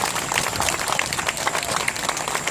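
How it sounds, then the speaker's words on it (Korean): An outdoor gathering of families of Sewol ferry victims breaks into encouraging applause, a thick, continuous crowd clapping that stays loud and even throughout, with no talk over it. "격려의 박수 힘차게 보내주시기 바랍니다"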